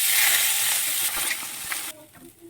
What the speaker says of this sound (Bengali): এখন আমি গ্যাসের ফ্লেমটা কম করে রেখে আর নেড়ে চেড়ে চালটা অল্প একটু ভেজে নিচ্ছি